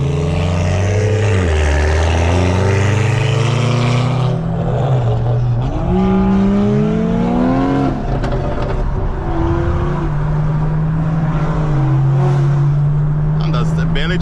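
A tuned full-bolt-on Toyota Supra with straight pipes, a catless Magnaflow downpipe and Eventuri intake drives hard, its loud engine climbing and dropping through gears, with a person talking over it.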